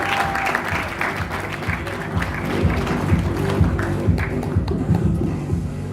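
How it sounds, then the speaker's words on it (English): Applause and cheering from an audience at a training event, steady and fairly loud, with a low rhythmic music bed running underneath throughout. "Give a big round of applause."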